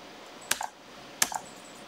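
Two quick pairs of crisp computer keyboard clicks, keys pressed such as Enter and F2, sound close and fairly quiet over a low steady hum, with a pause between the pairs.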